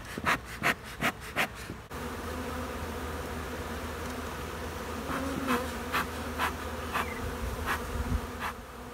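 Honey bees buzz around an open hive in a steady, dense hum that lasts throughout, with a few rhythmic puffing or rubbing pulses near the start and occasional louder passes from bees flying close.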